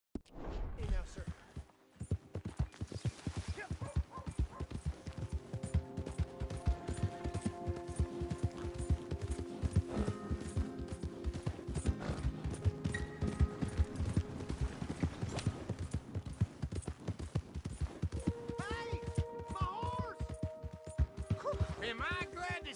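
Horse hooves clip-clop steadily in Red Dead Redemption 2, a continuous rapid rhythm of hoofbeats over a game soundtrack and ambient effects, with voices of characters talking over it.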